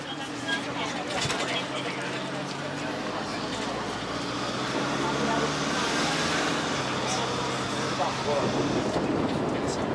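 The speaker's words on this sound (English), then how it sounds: "Here we are on the tram on the way to the" Steady rumble and rolling hum inside an airport tram carrying passengers to the arrivals terminal at Koh Samui, a continuous moderately loud ride noise with a low whine and occasional clunks.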